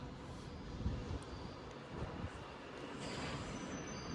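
A five-coach passenger train pulls out of London Euston bound for Crewe, a steady rumble of wheels and carriages with faint squeals, heard from the platform at moderate distance with no talk.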